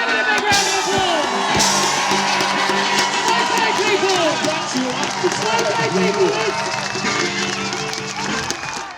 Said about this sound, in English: Give it a big round of applause.